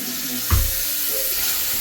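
Mint leaves, onion and coriander frying in a pan, loud continuous sizzle with one sharp stirring knock partway through, close and steady.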